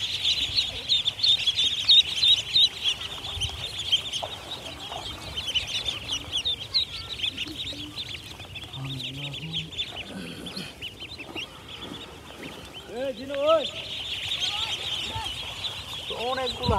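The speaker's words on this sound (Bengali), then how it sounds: "অনেকগুলো হাঁস কিন্তু দর্শক দেখেই বুঝতে পারছেন, অনেক হাঁস কিন্তু এখানে।" A large flock of Belgian ducks on a duck farm, giving scattered calls and murmurs that build into a short burst of louder quacking near the end, over a constant background hiss.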